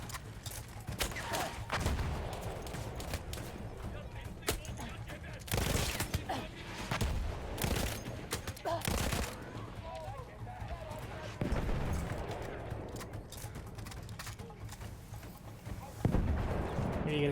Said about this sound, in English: Oh crap, they got mortars.